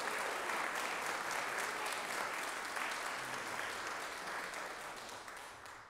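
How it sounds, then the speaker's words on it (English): Applause from a concert audience for a university jazz ensemble and combos: steady, fairly quiet clapping from many hands that tapers slightly toward the end. "So one more round of applause for these guys."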